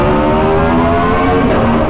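An Aprilia motorcycle engine revs hard and close, a loud continuous high-pitched roar with a slight pitch rise across the short stretch.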